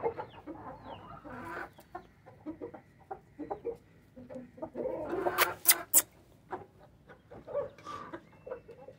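A rooster clucks and calls in short, irregular bursts outdoors after being carried out from indoors, with other bird sounds and scattered noises around it and no talking.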